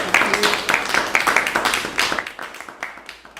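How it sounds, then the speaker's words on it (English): Audience applause after a new music scholars' masterclass: a dense burst of many hands clapping that rings out fully, then thins into scattered, fading claps toward the end. "Let's give them a big round of applause."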